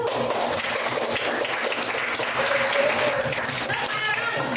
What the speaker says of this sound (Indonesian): jadi tepuk tangan untuk kelompok 1